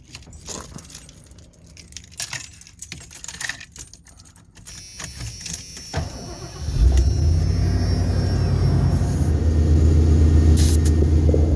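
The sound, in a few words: car engine starting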